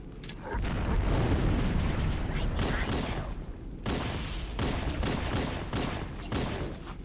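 Gunfire in the first-person shooter Halo: Combat Evolved, on the Pillar of Autumn level: a dense, continuous barrage of rapid shots and booms, loud and close, with brief breaks in the firing.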